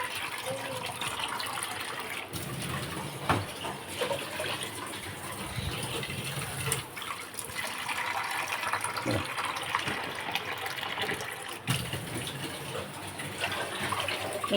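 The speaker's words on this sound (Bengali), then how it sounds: "ডালে জল দিয়ে দিলাম" Water is poured into a cooking pot of lentils (dal), making a steady gushing, splashing flow that runs through the whole stretch against a busy kitchen background.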